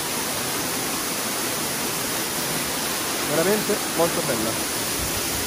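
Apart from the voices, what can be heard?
large waterfall, Cascate del Tuorno, Basilicata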